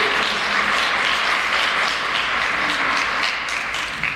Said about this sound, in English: That's absolutely worth clapping for.